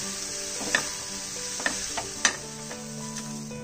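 Vegetable fried rice is tossed and stirred in a hot pan, a steady close sizzle punctuated by four or five sharp spatula scrapes and knocks against the metal, with no voices.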